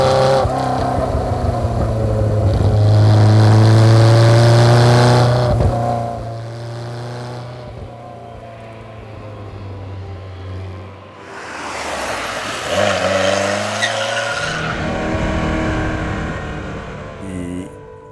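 A 1977 Ferrari 308 GTB on the move, its engine roaring loudly and close, rising and falling through gear changes, with a sharp surge of acceleration near the end.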